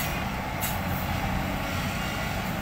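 A red dump truck reverses in with a loud, steady diesel rumble and a brief hiss of air brakes, heard up close without talking.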